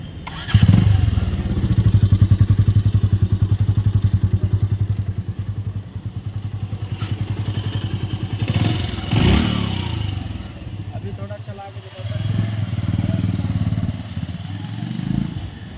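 A Bajaj Avenger 180 motorcycle engine thumps steadily while being ridden, a loud close-up rumble with a couple of brief revs and a rise in pitch, continuing throughout with a voice speaking over it.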